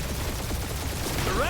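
Brief spaceship battle gunfire in Marvel's Guardians of the Galaxy game, a dense rattle of shots under a steady engine rumble, with a short rising electronic whine near the end.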